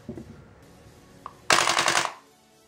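A KWC CO2 blowback Mini Uzi airsoft gun fires one loud, rapid full-auto burst lasting under a second. Quiet handling clicks come before it, and the burst cuts off abruptly.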